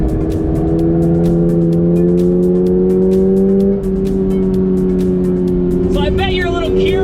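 A 2022 Toyota GR86 revs hard under acceleration on a track, a loud close engine note climbing steadily in pitch with a gearshift dip midway, then tire or exhaust chatter near the end; no talk over it.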